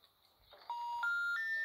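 A doorbell in a Hello Neighbor–style video game rings as a short electronic chime of three rising tones, clear and close with no talk over it.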